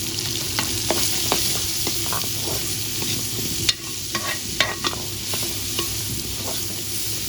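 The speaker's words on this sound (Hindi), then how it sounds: "प्याज को फ्राई कर लेंगे।" Onions fry in ghee in a pan, giving a constant close sizzle with occasional sharp ticks and scrapes from stirring, and no voices.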